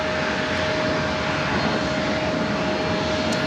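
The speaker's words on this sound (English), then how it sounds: "Started off with Hawaiian Airlines flight 61 heading to Kona," A Hawaiian Airlines Airbus A330 jet on takeoff at LAX gives a steady, loud engine roar with a constant high whine, unbroken for the whole stretch.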